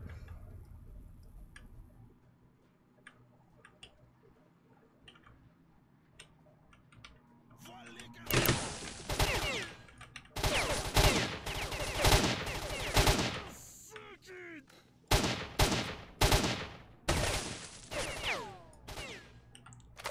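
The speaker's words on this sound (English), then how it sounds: "Hey, stop shooting at me." Gunfire in S.T.A.L.K.E.R.: Shadow of Chernobyl, starting after a quiet stretch with faint talk, then loud irregular bursts of close rifle and machine-gun shots in clusters with brief pauses between them.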